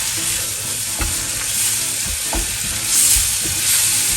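Tamarind extract poured into a hot pan for a coconut-free theeyal, a loud close bubbling sizzle that swells and subsides, with a few soft spoon knocks against the pan.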